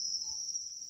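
Crickets at a cricket farm keep up a steady, high, continuous chirping trill, close and clear with nothing else over it.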